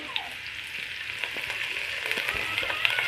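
Onion and ginger paste frying in a pan, a steady close sizzle with occasional sharper crackles and pops running throughout, loud and unbroken with no voices.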